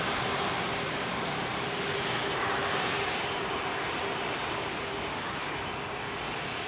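A Boeing Dreamliner jet roars down the runway on its takeoff run at Heathrow, a loud, steady broadband engine rush heard from nearby without voices.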